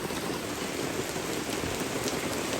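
Heavy rain pours down steadily at a beach and cave area near a coffee shop in Bolinao, a dense, loud, unbroken wash of drops on surfaces with no pauses.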